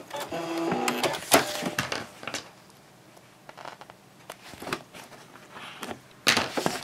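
Domestic sewing machine backstitching a diaper bag, short loud whirring bursts of stitching separated by pauses and handling noises, close by with no talk.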